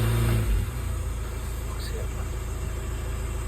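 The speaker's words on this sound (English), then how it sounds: "It's just revving like it's in limp mode" A 2.0 TDI BKD diesel car engine in limp mode held at a steady, raised rev after a brief louder burst at the start, droning evenly without climbing higher.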